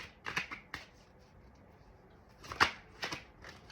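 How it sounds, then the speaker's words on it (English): Tarot cards are shuffled and pulled in two brief bursts, crisp close riffling and flicking snaps separated by a quiet pause, with no talking. "Let's pull some more cards and see what comes out."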